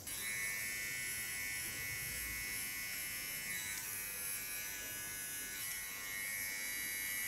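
Small Kione hair clipper trimming the contour of a short haircut, fitted with either a metal or a ceramic blade: a close, continuous high-pitched electric buzz held steady throughout, with slight shifts in tone as it moves.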